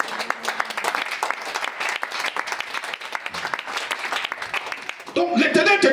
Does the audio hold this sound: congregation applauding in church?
yes